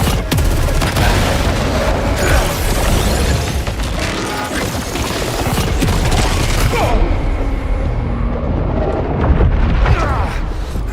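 Loud, dense gunfire with heavy recoil in the video game Saros, a sustained barrage of booming shots and blasts filling the whole stretch before easing slightly near the end.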